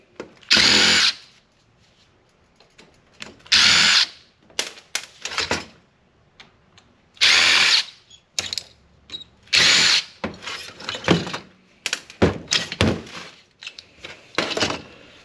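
A power driver removes Torx screws from a burned metal frame in short, loud, whirring bursts separated by pauses, with small metallic clicks and handling noises between runs.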